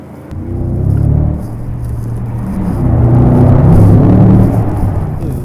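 A Mercedes S-Class drives along with a steady low engine rumble and road noise that swells as it gathers speed, with faint rattles inside the cabin and no talking.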